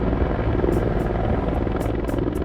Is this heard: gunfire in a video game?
no